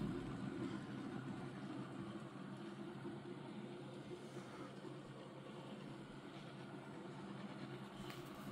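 A pulse motor's lightweight rotor spinning up on a bench, a steady low whirring hum with a continuous mechanical drone that holds even throughout.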